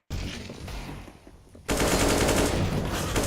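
First-person shooter game gunfire, rapid automatic bursts sounding loud and close, with a brief quieter gap before a dense final volley.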